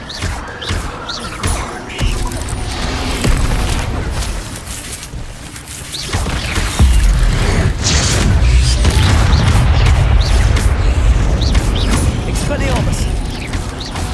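Spell-casting in the Hogwarts Legacy video game: booming, crackling fire-spell bursts and mechanical game effects, loud and continuous with repeated impacts, under a spoken spell incantation.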